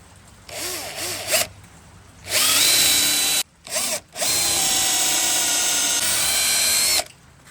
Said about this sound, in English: we're gonna drill our holes in it. Just using regular old drill bit, wood drill bit in my drill here.